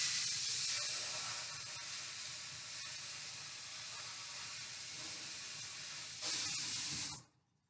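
Water from a tap running steadily into a bowl to soak it, a constant close hiss that swells briefly near the end before cutting off abruptly.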